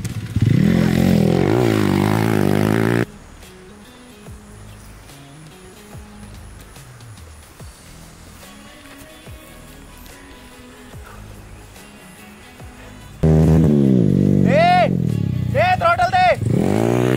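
Hero Xpulse 200 4V motorcycle revving loudly during off-road dirt riding, with strong roaring bursts at the start and end and a quieter stretch of engine rumble and clatter between them.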